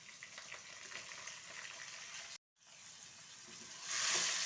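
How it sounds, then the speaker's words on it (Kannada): Chana dal sizzles and fries in hot oil for tempering rice, a steady crackling hiss that cuts out for a brief moment, then returns and swells louder near the end. "ಸ್ವಲ್ಪ ಕಡಲೆಬೇಳೆ ಫ್ರೈ ಆಗಲಿ"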